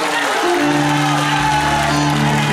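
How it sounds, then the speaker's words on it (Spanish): Wedding guests clap and cheer loudly for the bride and groom over sustained live music. The crowd noise is close and continuous and sits under the band's steady tones. "Y el aplauso para los novios, por favor."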